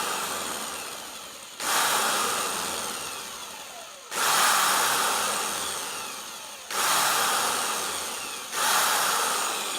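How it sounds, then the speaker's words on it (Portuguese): A power drill boring an angled hole through PVC, four loud sustained grinding bursts, each starting abruptly and slowly fading, close up with no talking. "Então a gente vai agora fazer a furação"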